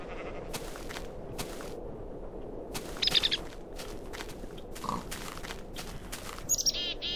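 A bird calls in the Minecraft Tekkit mod, giving a few short chirps, near and moderately loud, over a steady bed of game ambience and background noise.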